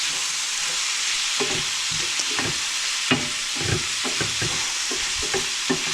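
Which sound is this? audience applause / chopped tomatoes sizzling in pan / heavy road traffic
chopped tomatoes sizzling in pan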